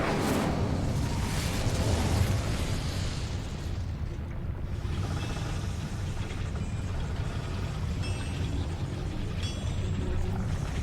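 An Incendio fire spell cast in the video game Hogwarts Legacy, a loud roaring, whooshing burst of flame that swells early and then settles into a steady crackling rumble, heard on its own.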